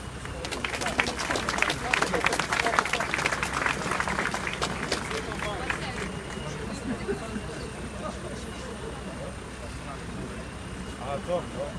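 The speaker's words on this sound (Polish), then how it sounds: "Proszę brawa." Outdoor crowd at an anti-government nationalist protest in Wrocław claps for a speaker from Legnica, a burst of applause that is strongest early and tapers off under murmuring voices.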